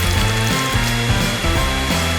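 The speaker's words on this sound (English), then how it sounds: "I need a hairdryer, with which I will melt the paint of the Skittles candies" A hair dryer blowing on a cake to melt the coloured coating of Skittles candies, a loud steady whirring drone with a low pitch that wavers slightly throughout.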